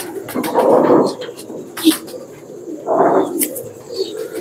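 Red-fancy pigeons coo in low, rounded bursts, two strong calls a couple of seconds apart, close by, with faint chirps and background chatter between them.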